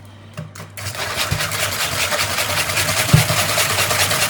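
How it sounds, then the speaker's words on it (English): A runny egg-based batter for gingerbread caramel cookie bars is whisked in a home kitchen, giving a steady, continuous whirring churn that starts after a brief pause and runs evenly to the end, close up and without talk. "And whisk this again."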